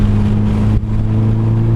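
A 2006 Mitsubishi Evo9 MR accelerates flat out on the Laguna Seca track, its engine a loud, close, steady droning hum with a brief dip partway through.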